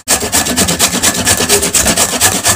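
Cassava being rubbed hard against a fine grater, a steady rasping scrape repeating in quick back-and-forth strokes, close and loud without pause.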